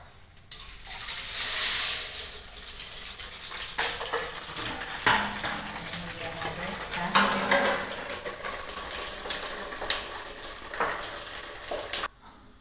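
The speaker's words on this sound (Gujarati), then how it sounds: "જો હવે આપણા દાણા ફરાઈ ગયા છે." Grains fry in oil in a pan, with a loud burst of sizzling at the start followed by repeated scraping and stirring clinks of a utensil against the pan.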